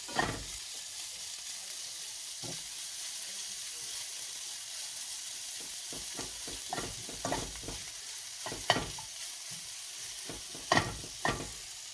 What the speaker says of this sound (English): Just mix that in.